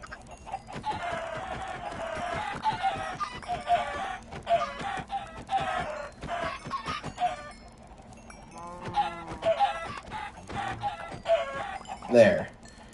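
Minecraft chickens clucking in a game world, with repeated short squawky calls scattered through the clip over a busy background of game sounds and music-like tones.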